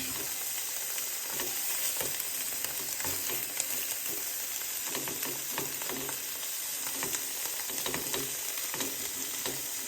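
Paneer sizzles steadily in a hot pan, a constant bright frying hiss with soft scattered crackles and occasional light stirring scrapes, heard close and alone.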